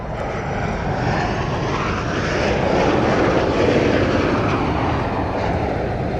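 A Chengdu J-10 fighter jet roars past at an air force air show, a loud continuous engine rumble that swells and holds with no voices.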